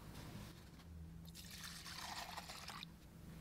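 Alcohol being poured into a container to be supercooled with dry ice, a quiet trickling pour that swells into a brighter splashing stream for about a second and a half, then stops, with no talking.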